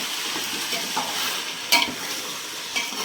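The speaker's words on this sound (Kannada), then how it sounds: "ಕಾಲು ಟೀ ಸ್ಪೂನ್ ಅರಿಶಿನ ಪುಡಿ ಹಾಕ್ತಾಯಿದ್ದೀನಿ. ಈಗ ಚೆನ್ನಾಗಿ ಮಿಕ್ಸ್ ಮಾಡಿ" Chicken being stirred in a frying pan after a quarter teaspoon of turmeric powder goes in for a country-style chicken biryani, a steady sizzle with spoon scrapes and one sharper clink near the middle, close and with no talk.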